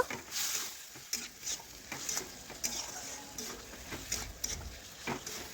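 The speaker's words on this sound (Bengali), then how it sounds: "এইভাবে নাড়াচাড়া করতে করতে কিছুটা সময় নিয়ে ইঁচড়টা রান্না করে নিচ্ছি।" Green jackfruit and boiled potato being stirred in a pan with salt, a soft scraping and gentle sizzle recurring in a steady rhythm, close and moderately quiet.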